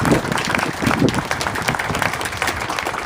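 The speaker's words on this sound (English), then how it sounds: "how about a round of applause?" An outdoor crowd at a Veterans Day parade in Prescott applauds a Vietnam veteran with a dense, continuous wash of clapping that stays fairly loud and even for about three seconds.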